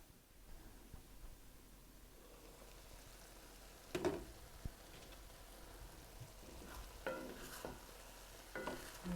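Dirty rice cooking over medium heat in a covered skillet gives a faint, steady sizzle with a few soft clinks and stirring-like bumps.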